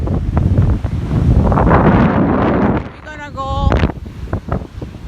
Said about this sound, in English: 50 miles wind. Pretty strong.